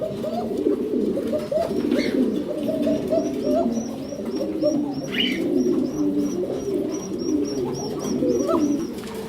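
Fancy pigeons coo repeatedly at a pigeon farm, soft rolling calls overlapping close by, with occasional sharper chirps and a faint voice in the background.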